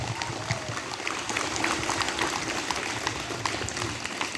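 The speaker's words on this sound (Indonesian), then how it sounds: "Mari kita berikan tepuk tangan untuk Bapak Presiden kita." Outdoor crowd applause for the President at a village Independence Day (HUT RI 78) ceremony in Flores Timur, a steady wash of many hands clapping at moderate volume, with some background noise and no clear speech.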